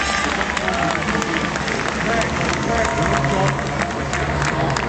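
A large crowd applauds at the start of the 2013 24 Hours of Le Mans. Dense, steady clapping and cheering mixes with crowd hubbub and continues at an even level throughout.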